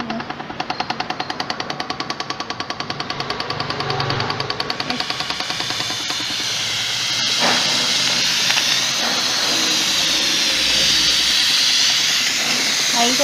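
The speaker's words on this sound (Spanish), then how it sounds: "Ahí se ve que ya echa el vapor." A Shinobi ironing center steam iron, repaired after leaking water from its sides, starts with a rhythmic pulsing pump and then shifts into a loud, continuous hiss of released steam up close.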